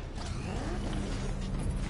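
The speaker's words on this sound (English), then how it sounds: "No, the power wrench." The power wrench in Batman: Arkham Knight turns with a steady mechanical creaking and ratcheting whir, close and continuous for about two seconds.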